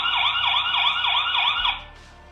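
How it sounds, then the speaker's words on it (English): A Hikvision AcuSense security camera's loud electronic siren wails in a rapid rising-and-falling cycle for about two seconds, then cuts off abruptly. "You can choose from this siren"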